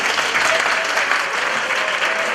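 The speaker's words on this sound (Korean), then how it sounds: "우리 사랑과 축복의 박수 한번 해주시겠어요?" Church youth congregation applauding its leadership, a loud, even burst of many hands clapping that fills the whole moment without a break.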